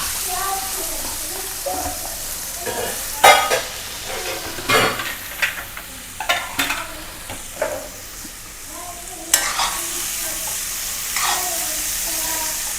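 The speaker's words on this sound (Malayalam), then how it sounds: "ഇനി ഇതിലേക്ക് നമുക്ക് ജാതിക്കത്തൊണ്ട് ഇട്ട് കൊടുക്കാം." Nutmeg rind dropped into a pan of browned chili powder for a pickle, with soft sizzling and frying crackle plus intermittent stirring scrapes and clinks against the pan throughout.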